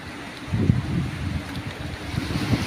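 Cold, dry wind in Israel at the start of winter blows steadily across the microphone, a continuous low rushing roar with gusty swells and no voices.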